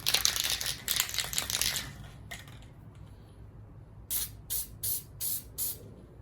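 Headliner adhesive sprays onto seat foam for a classic Porsche sport seat, first in a long hissing burst, then after a pause in five short, evenly spaced spritzes, close and fairly loud.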